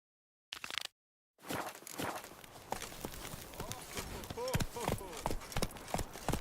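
Roach the horse clip-clops along at a steady walking gait in The Witcher 3, hoofbeats repeating close by over a murmur of background voices and ambient town noise.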